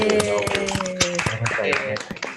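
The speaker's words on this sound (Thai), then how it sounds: "เอาทุกคนขอเสียงปรบมือให้ตัวเองก่อนครับ" Students in an online IoT design class clap for themselves, a handful of sharp, separate claps scattered over steady speech and background tones.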